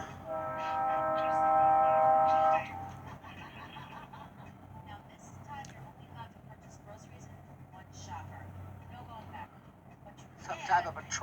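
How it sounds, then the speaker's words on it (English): An OC&T Alco diesel freight train heading to Oil City, Pennsylvania, sounds a loud sustained horn blast, then rumbles past at moderate distance in the rain, with a few scattered clanks and a voice speaking near the end. "Got a train coming, check it out"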